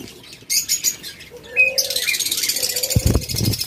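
A pair of cockatiels, the female a lutino pearl, give sharp chirps and whistled calls close by, with brief fluttery rustling, in a quick, busy burst of sound.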